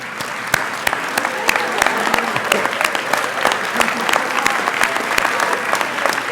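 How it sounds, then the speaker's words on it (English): Steady, dense applause from a large audience at a school senior class night, many hands clapping continuously and loudly throughout, with a faint murmur of crowd voices beneath. "stand so that we can give you a round of applause"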